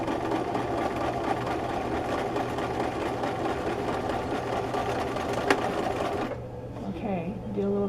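A sewing machine stitching fabric for a scrunchie runs in a steady fast whir close by, then stops near the end, leaving a softer pause and a little handling noise.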